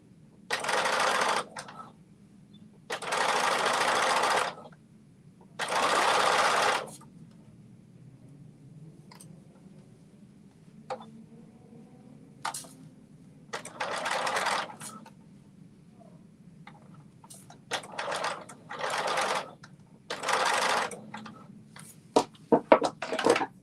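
Several bursts of a sewing machine stitching a garment with elastic, each a few seconds of rapid mechanical whirring separated by quiet pauses, with short clicks and fabric handling between them and brief murmurs from the person sewing.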